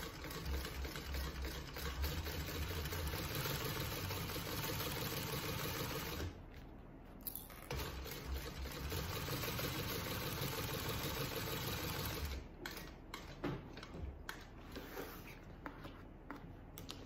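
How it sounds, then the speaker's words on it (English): A sewing machine bastes the sides of a fabric bag with an eighth-inch seam, running in a steady mechanical whir with brief pauses between stitching runs. "I'm going to baste these sides with a 1/8 inch seam allowance"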